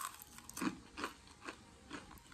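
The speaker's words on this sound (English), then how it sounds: "I didn't want to make you hear me chew, but I'm eating Cane's fried chicken" Fried chicken from Cane's is chewed close to the mic, giving four or five crisp, crunchy bites in a steady rhythm over a quiet background.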